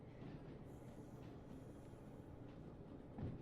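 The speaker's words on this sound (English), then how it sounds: "You have to keep an eye out for the trains, though." A train rumbling past in a railway video game, a faint steady rolling drone with soft rhythmic wheel clatter and a brief thump near the end, no voices.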